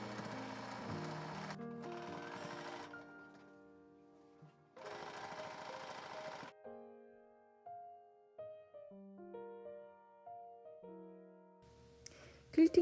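A sewing machine stitches a quarter-inch seam on a quilted iPad pouch, running in two steady bursts of about two seconds each, followed by soft background music.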